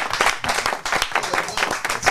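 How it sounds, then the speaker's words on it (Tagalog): An audience claps for a band on a podcast show, a lively wash of many hands clapping at close range that rises and falls in waves, with voices mixed faintly in. "Ayun, kaya maraming palakpak, guys"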